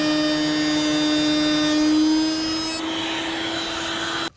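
A handheld router cuts along a template to shape a circle in MDF, with the workpiece held flat by a push-block gripper. A loud, steady high-pitched whine runs almost throughout, dips slightly partway, then cuts off abruptly.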